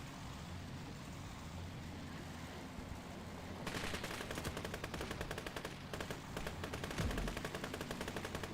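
Rapid automatic gunfire in the World War II game Gates of Hell, Japanese campaign, breaking out after a low rumbling hum into a dense, steady stream of close, loud shots.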